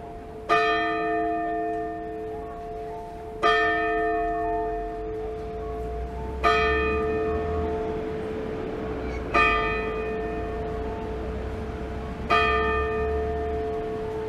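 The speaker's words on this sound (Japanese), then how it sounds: "鐘が鳴ったとこですね。" The Sapporo Clock Tower bell tolls five times at an even, unhurried pace, each strike clear and ringing with a long humming decay that overlaps the next, heard alone over faint street ambience.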